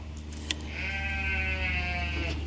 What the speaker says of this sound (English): Those sheep are incredible.